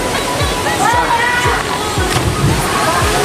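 Person bathing and splashing in the pool beneath Masagana Falls in Barangay Irawan, with watery sloshing over the continuous rush of the falling water and faint voices nearby.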